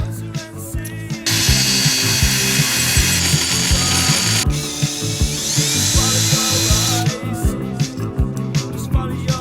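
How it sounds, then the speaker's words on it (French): A power drill bores a small hole in a homemade forearm grip handle, giving a loud, steady whirring buzz with rhythmic clicking pulses that runs for several seconds up close before easing off. "Je vais d'abord faire un petit trou, sinon ça va être trop compliqué à percer"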